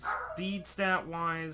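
A dog barks and yips in a few sharp, close bursts indoors while a person keeps talking over it during a Pokémon team discussion.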